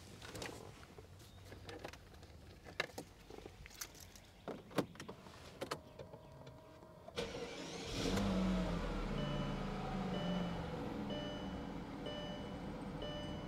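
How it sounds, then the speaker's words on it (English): A Mercedes S600 with a V12 engine is started after a quiet stretch of clicks and small mechanical noises, then settles into a steady, close idle that runs to the end. "So we're gonna give her a start and just make sure Mike didn't screw it up."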